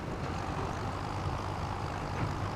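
A tractor engine from Farming Simulator 25 on the Chipping Norton farm map rumbles steadily at low pitch, a continuous, moderately quiet drone with no talking.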